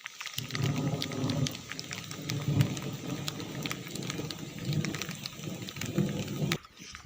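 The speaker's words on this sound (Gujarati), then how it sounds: "અત્યારમાં વરસાદ ચાલુ છે" Steady rain patters and hisses throughout, with low rumbling underneath and faint animal calls, then the sound drops away near the end.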